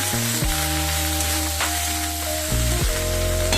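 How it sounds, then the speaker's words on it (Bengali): Eggplant, potato and beans fry in hot oil with panch phoron and a dried red chilli in a kadai, a loud, steady close sizzle running throughout, with a musical background underneath. "তার মধ্যে তেল দিয়ে সামান্য পাঁচ ফোড়ন একটা শুকনো লঙ্কা দিয়ে বেগুন আলু আর সিম দিয়ে দিলাম"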